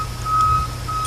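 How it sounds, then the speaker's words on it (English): A truck backing up outside sounds a steady, thin reversing beep, heard faintly in the distance over a low background hum. "there's some truck backing up outside"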